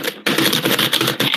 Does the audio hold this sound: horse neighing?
no